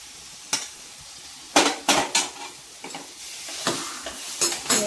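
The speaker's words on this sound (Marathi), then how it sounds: "तो आपण आता याच्यामध्ये टाकून चांगलं परतून घ्यायचं।" Khoa is sautéed in ghee in a pan for barfi, with a soft background sizzle and a series of distinct spatula scrapes and knocks against the pan, irregularly spaced.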